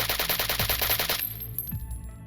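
Modded firearms in STALKER: Shadow of Chernobyl with the Gunslinger Adaptation weapon pack fire a loud, rapid automatic burst of close shots, then it cuts off and two heavier single reports follow.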